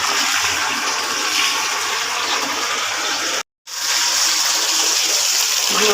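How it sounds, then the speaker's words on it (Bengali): Dirty items being washed in a mix of hot and cold water, a loud steady gush of running water that cuts out briefly partway through and then resumes. "গরম পানি, ঠান্ডা পানি দুটো মিক্স করে ধুয়ে নিচ্ছি।"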